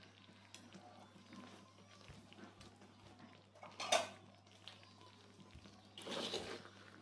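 Quiet kitchen sounds of a metal ladle scraping and scooping young-coconut candy mixture in a pot, with a sharp clink partway through and a wet, gloopy stir near the end.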